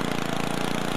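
Steady buzzing engine of a riding lawn mower in the video game Happy Wheels, a continuous mid-pitched drone with a fast regular pulse, loud and unbroken.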